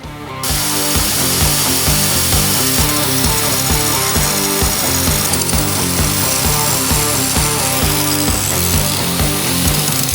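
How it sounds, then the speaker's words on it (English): Up close, an end grinder works raw Damascus steel being shaped into a spear, giving a loud, continuous, rhythmically pulsing mechanical grind that runs steadily from start to finish. "all I'll do is I'll just grind out where I want it with the end grinder"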